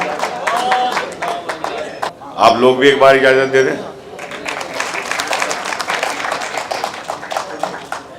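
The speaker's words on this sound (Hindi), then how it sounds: "पुरजोर तालियों से इस्तकबाल।" A mushaira audience bursts into a loud, dense round of clapping for a poet, swelling and then fading, with a voice speaking over the hall before and after.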